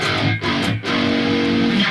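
Heavy, thick djent rhythm guitar played through a Neural DSP amp plugin, loud and distorted, with chunky palm-muted chugs broken by two short stops before a sustained crunchy chord rings out.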